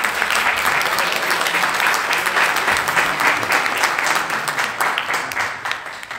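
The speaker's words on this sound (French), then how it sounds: "J'aimerais qu'on les salue en les applaudissant." An audience at an eloquence contest applauds the teachers, with loud, sustained clapping that fills the room and fades slightly at the end.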